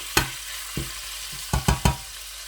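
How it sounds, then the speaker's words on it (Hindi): Half a kilo of minced meat fries in a pan while a spoon stirs and mixes it, giving a few sharp scraping strokes spaced over a low background sizzle. "इस तरीके से मैं अच्छी तरह से कीमे को मिक्स करूँगा।"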